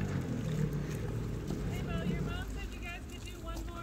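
A jet ski engine tows a tube across a lake at Marble Falls, Texas, giving a steady droning roar under heavy wind rush. People talk and call out over the engine noise.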